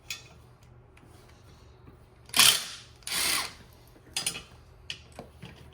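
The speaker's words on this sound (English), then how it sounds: "I feel like you could have did that without a power tool." A power tool used while fitting an ARB twin compressor to an overland vehicle gives three short, loud whirring bursts with quiet gaps between, then a few softer clicks.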